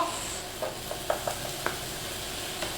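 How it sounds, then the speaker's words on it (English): Breakfast hash with mince fries in a pan, a soft steady sizzle with faint scraping clicks as it is stirred and tossed, close and fairly quiet. "Give it a bit of a sizzle."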